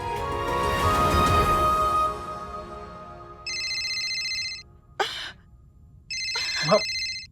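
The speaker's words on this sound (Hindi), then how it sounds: "माँ फोन उठा लीजिए ना" A phone rings in two electronic bursts, each a few seconds long, with a fading tone before them and brief sighing breaths between.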